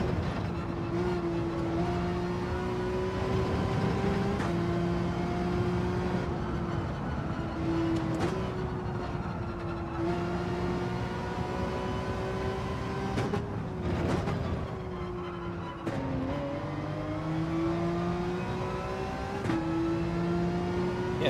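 A Porsche race car's engine revs continuously in Gran Turismo 7 during a Fuji daily race, loud and close, its pitch climbing and dropping through repeated gear shifts with no talking.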